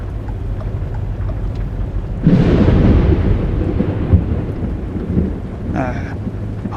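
Thunder during a rainstorm while driving in American Truck Simulator, a sudden loud crack that swells into a long rolling rumble and slowly fades over steady rain and engine hum.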